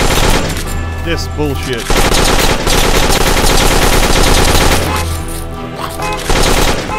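Farm defense turrets in Dead Acres fire continuously in rapid, loud automatic bursts that barely pause, with someone briefly talking over them.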